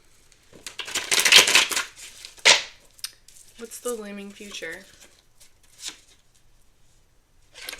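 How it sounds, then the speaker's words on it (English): Papery riffling bursts of shuffled tarot cards, loudest early, with a person speaking briefly before and between the shuffles. "Let's give it a good shuffle."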